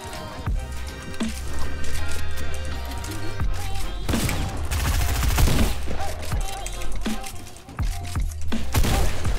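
Gunfire in a Fortnite match, with repeated bursts and rapid shots against busy game noise. Voices can be heard faintly under the action.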